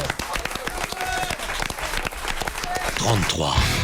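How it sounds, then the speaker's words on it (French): A television game show audience breaks into applause for a contestant, dense clapping close by with cheering, while people talk over it. "un tonnerre d'applaudissements pour Carmen"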